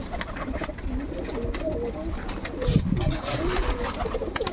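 A flock of domestic pigeons coos continuously nearby in low, throaty, overlapping calls, with a bit of rustling and someone talking in the background.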